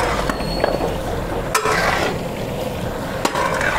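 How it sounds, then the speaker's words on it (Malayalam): Fried chicken is stirred into Manjali biryani gravy in a pot, with a steady wet sizzle and occasional sharp scrapes and knocks of the spoon against the metal pan. "ഇനി ഇതിലേക്ക് നമ്മൾ ഫ്രൈ ചെയ്ത് വെച്ച ചിക്കൻ ഇടുകയാണ്. ഇനി ഈ ഗ്രേവി ആയിട്ട് ഇത് നല്ലോണം ഒന്ന് മിക്സ് ചെയ്യാം."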